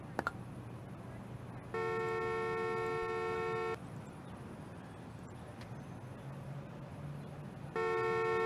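A steady car horn in the video game Parking Tycoon Business Simulator blares twice, a long honk followed by a second starting near the end, over a constant engine-like rumble with no talking.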